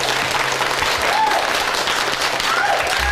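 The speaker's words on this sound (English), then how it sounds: "People, round of applause," A game-show studio audience delivers a full round of applause, dense and steady throughout, with a faint voice briefly audible underneath.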